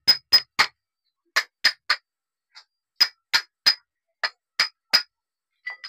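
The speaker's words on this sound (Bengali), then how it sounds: "এই পজিশনে চারপাশে ভালোভাবে ঠুকে নেবো" Hammer taps on the body of a Suzuki S-Presso steering rack, struck around its nut area to seat it: about fifteen sharp, close metallic blows in uneven clusters of two and three, with no talking.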